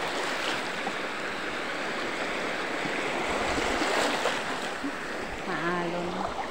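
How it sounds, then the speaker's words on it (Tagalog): Rough sea waves breaking on a tropical island beach make a steady, loud wash of surf noise throughout, with a brief voice near the end. "Maalon."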